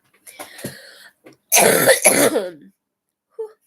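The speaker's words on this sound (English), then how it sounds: "The cough is not fun, but we'll get past it." A person coughs in short harsh bursts while recovering from an illness, with a weaker cough early, a loud heavy fit in the middle, and a brief faint cough at the end, close and alone.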